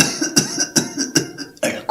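A voice imitates a car engine sputtering and coughing, in a series of short, rough, rhythmic bursts at a fairly loud level, with no other talk.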